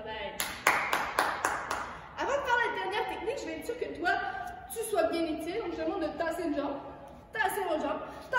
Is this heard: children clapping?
yes